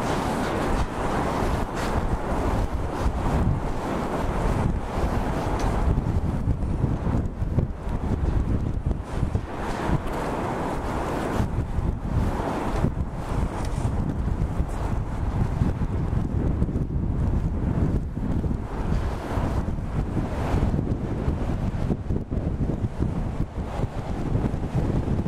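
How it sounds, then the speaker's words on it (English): Strong, gusty winter wind in downtown Toronto at -20°C buffets the microphone nonstop with a loud, rumbling roar, no voices, just continuous blustery noise throughout. "It's extremely windy."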